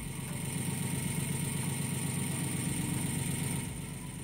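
A Dodge SRT engine idling at a salvage auction with a steady, low, rough-sounding drone and mechanical hum that holds constant throughout, with no talk over it.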